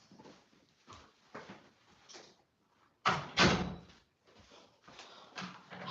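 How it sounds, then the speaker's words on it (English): Indoor handling noises culminate in a door being pushed shut with a firm, close thud in the middle, surrounded by quieter bumps and rustles. "Let me close my door."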